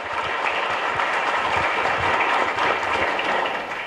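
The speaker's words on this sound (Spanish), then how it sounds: "Un fuerte aplauso para el Padre." Applause from a congregation during a novena Mass at a chapel in Ñemby, a dense, continuous wash of clapping that holds steady throughout.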